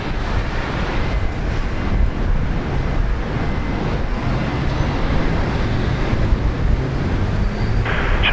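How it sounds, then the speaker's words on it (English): A Jetstar Boeing 787 takes off for Osaka at Brisbane Airport, its engines making a steady, loud broadband roar that holds evenly throughout, with no talking. "Jetstar 23 off to Osaka, Japan. Boeing 787,"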